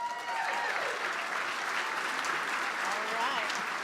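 A crowd applauding steadily at a chamber of commerce annual dinner and awards ceremony, a dense wash of clapping hands that holds at an even level throughout.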